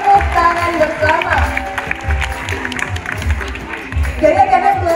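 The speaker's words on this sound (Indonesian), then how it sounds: "Kita berikan tepuk tangan bersama." Applause from a crowd at a Sumatran elephant show at Taman Safari Prigen in East Java rises up with rhythmic clapping, and a presenter keeps speaking over the noise throughout.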